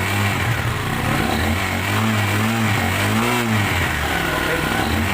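A motorcycle engine in a workshop revs up from idle and holds a raised, wavering pitch during a charging-voltage check, loud and close with a steady mechanical drone throughout.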